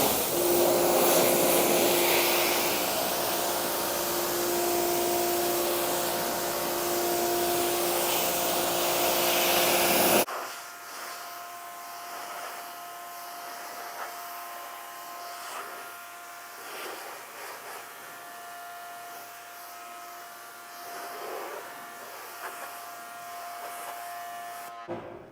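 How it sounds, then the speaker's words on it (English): Steady, loud hissing water spray rinses a car during a winter wash against road salt, dropping to a quieter, more distant rinse partway through and continuing. "And now I'm going to come in and rinse thoroughly."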